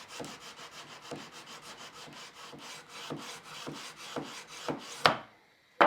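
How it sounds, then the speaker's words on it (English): Sandpaper rubbing along a guitar fretboard in steady repeated back-and-forth strokes, close and dry, with a sharper scrape and clatter near the end. "take my sandpaper and then I start sanding from the 12th fret down, maybe 50 times or so"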